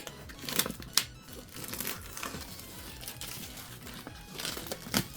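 Plastic packaging wrap on a newly unboxed MelGeek MADE84Pro keyboard being crinkled and torn with tweezers, a close run of crackly rustles and sharp tearing bursts.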